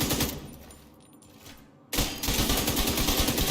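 SMG gunfire in The Division 2 rattles in rapid, dense bursts, thins out for a moment, then resumes as steady automatic fire, close and loud.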